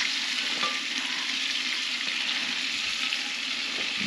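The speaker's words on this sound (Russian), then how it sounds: "Видишь, кусочки как хорошо жарятся." Lamb pieces sizzle and crackle steadily in hot oil in an Afghan kazan cauldron, a constant frying hiss with no talking.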